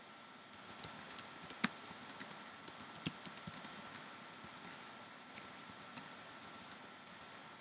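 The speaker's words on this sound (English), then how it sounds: "So let me type something more." Keystrokes on a computer keyboard, typed in short irregular bursts of light clicks with a few sharper taps, close up and fairly quiet against a faint steady background hum.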